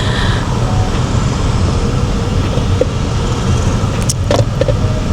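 Street traffic in Kigali on a Sunday, with plenty of motorbikes, heard as a loud, continuous close rumble of engines and passing vehicles, plus a few brief higher clatters near the end.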